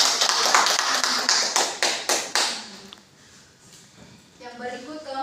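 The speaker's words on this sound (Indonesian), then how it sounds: "Mari kita berikan aplaus kepada kelompok" Classroom applause after a group's microteaching presentation on animal tissue structure, a burst of dense clapping for about three seconds that fades out, followed by quieter room sound and faint voices.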